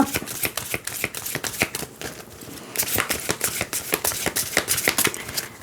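Oracle cards are shuffled and drawn by hand, a close, rapid run of papery riffles and flicks in uneven bursts, with no voices.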